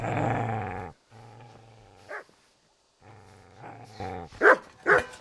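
A dog in the medieval game Kingdom Come snarls with a long, deep growl, then gives several short, sharp barks after a pause, loud and close.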